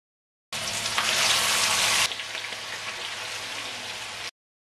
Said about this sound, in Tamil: இப்போ இதையும் நாங்கள் பொறிச்சு கோல்டன் ப்ரௌனாக எடுப்போம்